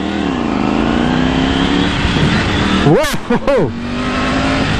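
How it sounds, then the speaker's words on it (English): A Triumph Tiger Rally Pro motorcycle engine revs up and surges through several quick rising pitch sweeps as the throttle is whacked open, loud and close, while a rider exclaims over it. "when you whack the throttle, it goes wild."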